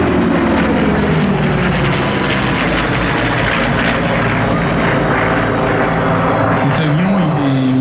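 A P-51 Mustang propeller aircraft flies at an airshow at Melun-Villaroche, its steady engine drone loud and continuous throughout, with a slight pitch shift near the end as it passes.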